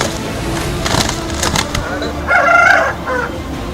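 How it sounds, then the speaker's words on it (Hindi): Roosters being readied for a cockfight ahead of the Pongal festival cluck and squawk amid a noisy crowd, with one sharp crow-like cry rising over the general din. "इन मुर्गों को लड़ाई के लिए तैयार किया जा रहा है।"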